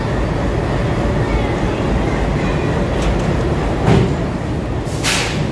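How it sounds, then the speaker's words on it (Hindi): An Indian Railways train with a WDM3A diesel locomotive coupling on to push it, heard as a steady low rumble with rolling rail noise and a couple of brief clanks and bursts of hiss near the end. "WDM3A का लोकोमोटिव लगने जा रहा है हमारी ट्रेन के साथ"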